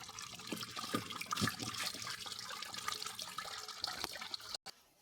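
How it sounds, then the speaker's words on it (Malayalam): Raw white rice (pachari) being washed under poured water for milk payasam, a steady close splashing and swishing that runs for about four and a half seconds and then stops abruptly. "വെള്ളം ഒഴിച്ച് കഴുകിയെടുക്കാം."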